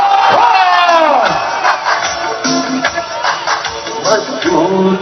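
A large rally crowd at a Labour Day speech roars and chants as Imran Khan is introduced, with rising and falling waves of massed shouting, whoops and cheering rather than distinct clapping.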